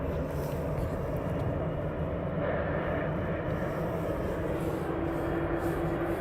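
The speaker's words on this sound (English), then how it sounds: "we have a 767 pushing here" Boeing 767 airliner pushing back at East Midlands Airport at night, a loud, steady jet engine whine and rumble with a constant airport drone throughout and no talking.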